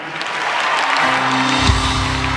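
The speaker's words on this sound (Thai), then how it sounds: "ผมอยากจะมอบเสียงปรบมือดังๆให้กับคุณแม็กครับ" A fan-concert audience claps for a performer, a broad, even wash of applause from a large crowd that holds steady, partly overlapped by a low sustained tone in its second half.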